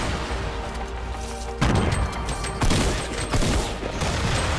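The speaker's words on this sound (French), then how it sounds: "Grenade." A grenade blast in Fortnite among heavy gunfire, with several loud crashing bursts and booms over a dense, continuous roar of battle noise.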